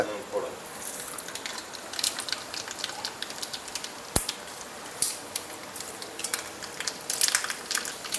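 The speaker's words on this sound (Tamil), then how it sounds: "கடுகு பொறிஞ்சிருச்சு" Mustard seeds spluttering in hot peanut oil for a tempering: scattered sharp crackles and pops over a soft hiss, with a few louder snaps.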